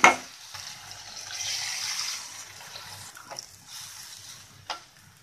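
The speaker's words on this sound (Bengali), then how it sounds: "আমি এখন ঝোলের জন্য অল্প একটু জল দিয়ে দিচ্ছি।" Water pours into a frying green jackfruit and prawn curry, raising a brief splash and then a steady sizzle with a few soft stirring scrapes, close and moderately quiet, with no talk.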